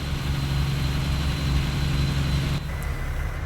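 A fire engine idles in the EmergeNYC video game with a steady low engine rumble and broadband hiss, continuous and fairly loud, with a slight shift in tone near the end and no talking.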